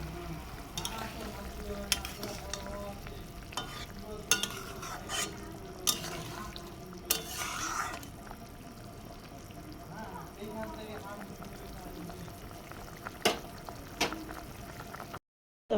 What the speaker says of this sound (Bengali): ঝোলটা ফুটে গেছে। এখন আমি আগে থেকে ভেজে রাখা মাছগুলো দিয়ে দেবো।